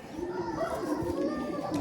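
Pigeon cooing softly amid a busy background of children's voices and nearby talk, the low throaty coos blending into the chatter.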